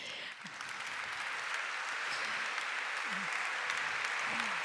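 An audience at a talk breaks into sustained, even applause that fills the room, with a few voices faintly audible underneath.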